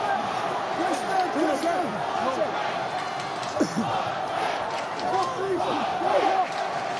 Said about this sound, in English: crowd baying for blood